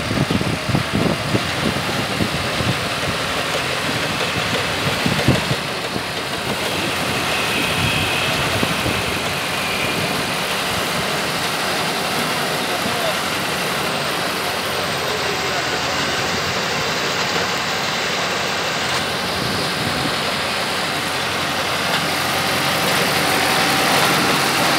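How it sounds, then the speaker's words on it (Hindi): Tractor-driven auger bores into the ground, driven by an Arjun 605 tractor with a homemade rig; a steady engine drone with low rumble runs throughout, moderately loud and close, with voices talking over it at times. "ट्रैक्टर से जमीन में बोर हो रहा है।"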